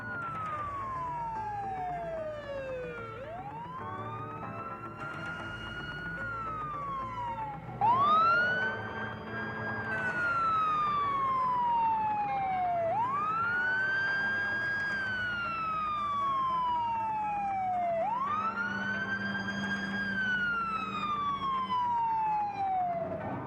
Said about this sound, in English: The flashing lights and sirens warn people that fire trucks are on their way.